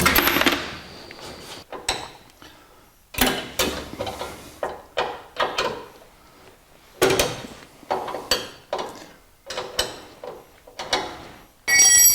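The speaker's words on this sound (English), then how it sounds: "this nut will spin right off the bolt" Nut spun off a bolt on a 1949 Chevrolet gasser's fender-well hardware, a series of close metallic rattling and clicking bursts with short pauses between them, sharp and fairly loud, with no talk.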